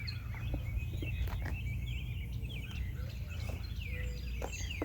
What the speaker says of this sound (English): I hear Dove.